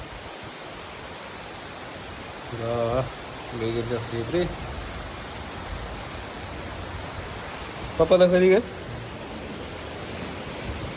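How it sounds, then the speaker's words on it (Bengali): Monsoon rain falls in a steady, even hiss throughout, with a voice calling out briefly twice over the downpour. "বৃষ্টি পড়ছে।"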